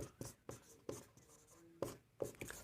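Chalk or pen taps and scratches out a maths equation in short, sharp strokes, about six distinct marks in under three seconds, close and quiet, with no talking.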